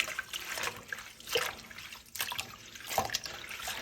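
Running tap water for rinsing greens trickles and splashes into a sink nearby in uneven spurts and surges, fairly quiet, without any voices.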